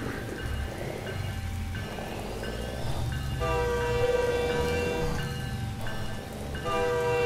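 In American Truck Simulator, a game train rumbles steadily past, sustained horn-like tones sounding over a dense low roar that grows slightly louder midway.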